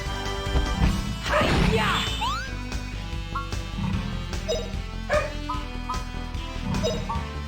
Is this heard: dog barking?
yes